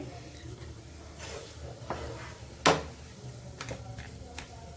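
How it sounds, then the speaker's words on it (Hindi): A spoon stirring halwa with freshly pounded cardamom powder in a pan, soft low scraping and gentle sizzle with one sharp clink midway, quiet and close. "तो इसी तरह से चलाते हुए इसे मिक्स कर देंगे"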